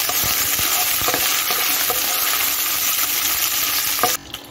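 Raisins and cashews frying in hot oil while being stirred, a steady loud sizzle with scattered spoon scrapes and clicks, cutting off abruptly near the end.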